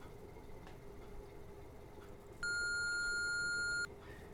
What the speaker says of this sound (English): You can hear a beep sound and it was automatically signed out.